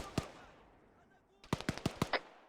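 Gunfire in a military video game: one sharp shot, then a rapid burst of about six cracking shots after a brief pause, loud and close.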